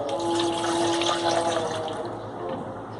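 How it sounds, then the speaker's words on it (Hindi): Ice cubes and milk poured into a blender jar for a watermelon milkshake with red syrup, giving a steady liquid pouring and splashing sound, close and fairly loud, with no talking. "आइस क्यूब्स ऐड करेंगे, दूध ऐड करेंगे,"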